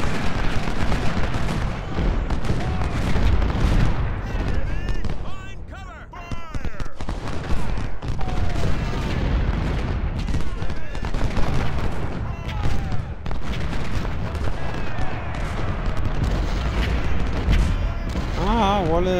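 Musket volleys and artillery fire rage through an Ultimate General: Civil War battle, a dense and continuous roar of overlapping shots and booms that stays loud for nearly twenty seconds. A voice speaks briefly over it.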